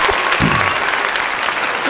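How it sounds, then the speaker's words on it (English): A short burst of recorded applause from a soundboard, a dense clapping crowd played loud for under two seconds. "I want to applaud both of you. I'm going to actually use the new board."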